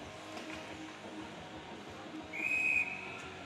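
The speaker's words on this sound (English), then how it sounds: "And whistle's going to blow, stoppage in action." A referee's whistle blows a single sharp blast to stop play for offside at a boys' high school ice hockey game, standing out clearly over steady arena crowd noise.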